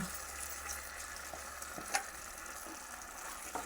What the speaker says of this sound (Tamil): அதில் சேர்த்து அப்படியே கிண்டி விட்டுருவோமா